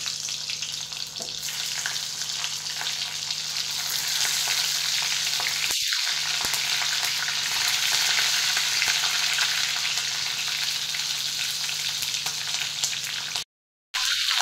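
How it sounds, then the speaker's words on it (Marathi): Capsicum peppers fry in hot oil in a wok after a cumin and mustard seed tempering, a loud, steady close sizzle that continues unbroken with only a brief cutout near the end. "आता एक एक करून आपल्याला सर्व मिरच्या कढईमध्ये टाकायच्या आहेत"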